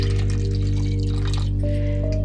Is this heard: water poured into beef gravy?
yes